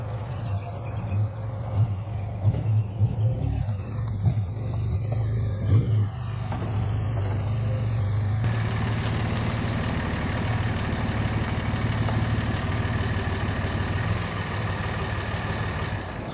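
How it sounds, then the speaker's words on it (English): A dumpster truck's engine runs loud and close with a steady low diesel rumble. About halfway through it swells into a fuller, brighter roar as the truck pulls away, and no one speaks. "We're gonna get the dumpster truck out and we're gonna drop that trailer off right here."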